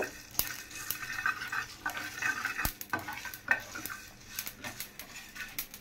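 Whole spices frying in oil for a dried jujube pickle, a soft crackling sizzle broken by repeated clinks and scrapes of a spoon against the pan, fairly close and without talk.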